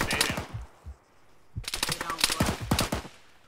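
Heavy video game gunfire rattles in rapid automatic bursts, a short burst at the start, a brief lull, then longer crackling volleys close and loud, with faint talk mixed in.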